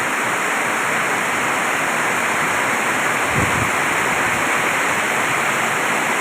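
Heavy rain pours down at a temple in a steady, dense roar, close and loud throughout with no pauses.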